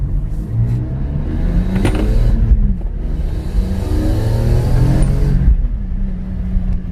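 Car engine heard from inside the cabin while driving, a loud, steady low rumble with rising and falling revs as it accelerates and shifts, no talk.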